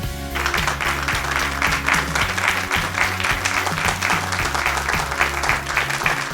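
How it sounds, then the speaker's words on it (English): A studio audience claps in warm, sustained applause at the opening of a medical talk show, steady and dense throughout. "Thank you for that warm applause."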